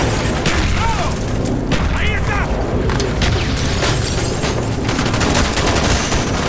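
Grenade blasts and bursts of gunfire in a video game, loud and dense, with repeated booms and rattling shots under constant voices talking.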